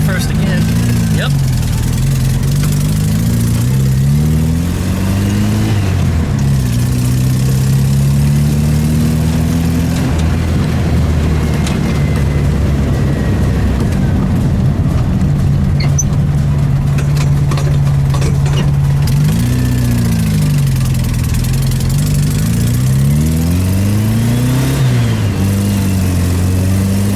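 A VW Super Beetle's air-cooled engine pulls in first gear, revving up and dropping back in repeated waves, steady mid-pitched drone heard from inside the car.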